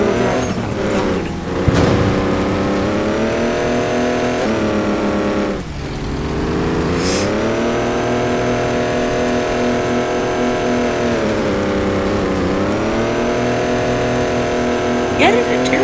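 A steady, loud engine drone from an off-road tow truck driving forward in the Off-road Outlaws video game, holding an even pitch with gentle rises and dips in revs and a brief dip near the middle.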